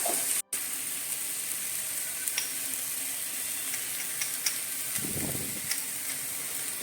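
Cowpeas sautéing in a pan with curry leaves, a steady soft sizzle and hiss running throughout, close and quiet, with a few faint ticks and a brief low stir near the end.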